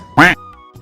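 A duckling gives a single loud, close quack lasting a fraction of a second, followed by faint quieter calls and low background noise.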